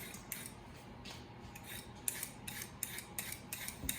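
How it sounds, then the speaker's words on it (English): Carrot peeled quickly onto a paper towel, a series of close, rhythmic scraping rasps with soft pauses between strokes, fairly quiet and with no talk. "I want to peel as quick as I can"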